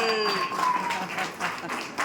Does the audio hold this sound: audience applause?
yes